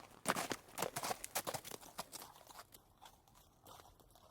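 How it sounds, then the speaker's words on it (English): A horse gallops on a road, hooves clip-clopping in a quick, uneven rhythm on the hard surface, loud at first and then fading as the horse moves off. "Suddenly, they heard a horse galloping on the road."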